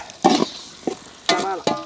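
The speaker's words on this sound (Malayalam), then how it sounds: "അതിലേക്ക് നമുക്ക് സവാള ഇട്ട് കൊടുക്കാം." Sliced onions go into a pan of frying shallots and curry leaves for a country chicken dish, making several short, close bursts of sizzling and stirring separated by brief quieter gaps, with no talk.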